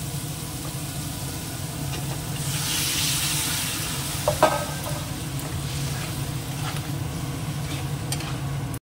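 Bottle gourd curry bubbling and sizzling in a pan on the stove, a steady close simmering hiss with a few soft clinks and stirring sounds, no talking.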